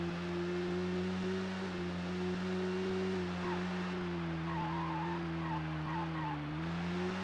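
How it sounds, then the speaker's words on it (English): Car tires skid under locked brakes in a racing video game, a sustained steady squeal with a slowly wavering pitch that holds for the full duration, loud and close, with no talking. "The brakes locked."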